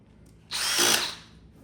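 Power screwdriver spinning a screw in during assembly of a Luxor multi-game pool table, one short whirring burst of under a second, close by.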